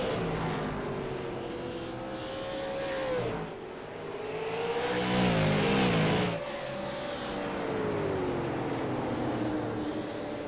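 Super late model race cars roar past on the Southern National Motorsports Park oval, engines droning steadily with a louder surge and Doppler sweep as the pack passes close, then fading into continued distant engine noise.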